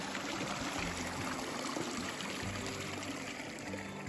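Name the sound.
stream of water flowing onto a Newfoundland beach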